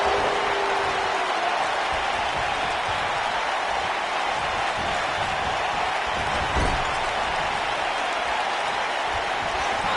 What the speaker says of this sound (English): but the crowd is loving Sasha's act.